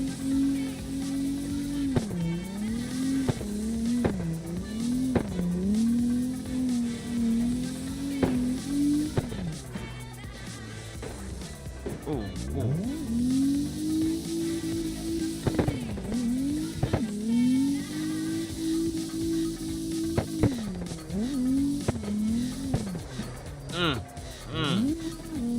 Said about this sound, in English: You hear that turbo sucking in the air?